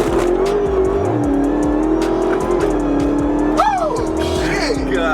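A Dodge Hellcat's engine roars loud and close as it accelerates hard, a steady high-revving drone with brief tire squeal partway through, heard from inside the car.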